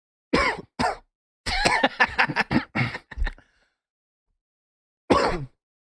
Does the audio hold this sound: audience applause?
no